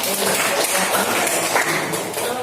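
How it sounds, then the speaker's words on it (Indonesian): Students in a classroom workshop on thaharah applaud the groups that answered, with a brief burst of crowd clapping mixed with voices talking over it. "Tepuk tangan untuk yang menjawab dari kelompok 3 menjawab dan kelompok 4."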